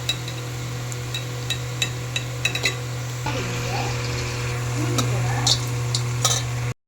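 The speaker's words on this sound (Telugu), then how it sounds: "దాన్ని ఇప్పుడు నూనెలో ఫ్రై చేసుకుందాం. పచ్చడికి ముందుగా ఫ్రై చేసుకోవాలి." Chicken pieces frying in oil for pickle, with light metallic taps and clinks at first, then a fuller bubbling sizzle that swells toward the end over a steady low hum.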